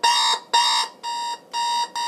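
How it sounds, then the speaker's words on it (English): Beeper alarm of a General Electric 7-4612BK clock radio from 1990 sounds in loud, bright electronic bursts, five repeated pulses of roughly a third of a second each with brief gaps, alone and close. "You can adjust the volume of the beeper alarm with the volume control,"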